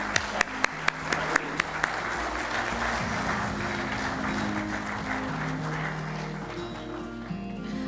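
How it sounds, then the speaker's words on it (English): An audience at a business forum gives a sustained round of applause, a broad wash of clapping with a few sharp claps standing out early, under a low background hum. "Can we have a huge round of applause?"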